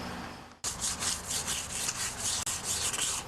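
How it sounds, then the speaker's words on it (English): Light sandpaper scuffs the painted rim of a John Deere 316 tractor under restoration, a steady rhythmic rasping of back-and-forth strokes close up, with a brief pause near the start and another short gap later, no voices. "Now I'm just going to pass a light sandpaper over it just to give the next coat of paint a bit of teeth to grab onto."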